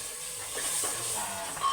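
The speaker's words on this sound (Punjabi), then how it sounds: "ਤੜਕਾ ਬਸ ਲੱਗ ਹੀ ਗਿਆ" Tadka tempering sizzling in a cooking pan: a brief, soft steady hiss heard alone at low volume.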